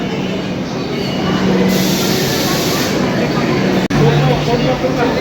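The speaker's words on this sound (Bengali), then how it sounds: "আমার ট্রেন এসে গেছে, এবার আমি উঠে যাচ্ছি।" A Kolkata metro train arrives at an underground station on the line toward Tollygunge, Kalighat and Garia, its loud steady rumble and rush filling the platform while people talk nearby.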